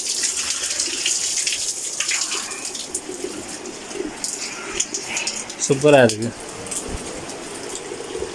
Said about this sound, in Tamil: நீங்களும் உங்களுக்கு அளவு மாதிரி தண்ணியெல்லாம் திறந்து குளிக்கலாம்